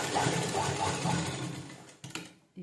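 A sewing machine runs steadily while stitching the lining of a round-style blouse, its motor humming with a fast repetitive needle rhythm before stopping abruptly near the end, followed by a couple of brief handling clicks.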